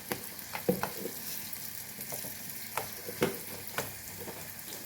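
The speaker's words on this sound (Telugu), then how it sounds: "ఇలా అన్నీ పోపేసుకున్నాము." Peanuts, turmeric and spices fry in an oil tempering for raw mango pulihora, a steady close sizzle broken by sharp clicks and pops from stirring with a utensil.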